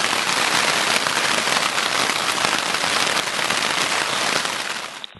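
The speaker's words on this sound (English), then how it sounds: "It's like raining inside the tent, just from bouncing off the ground beside me." Heavy rain pours onto a tent during a storm, a dense, steady close-up roar of drops drumming the fabric and splashing off the ground beside it, continuous and loud until it fades in the last moment.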